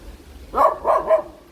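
A dog barks three times in quick succession, fairly close and clear against a quiet background at a cafe on Camiguin Island.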